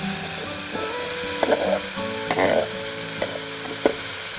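Papaya and tomato sizzle steadily in a hot pan, a continuous frying hiss broken by several short stirring scrapes and clinks, close and alone with no talking.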